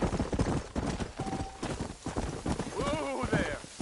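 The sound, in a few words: horse galloping, hooves clip-clopping, in Red Dead Redemption video game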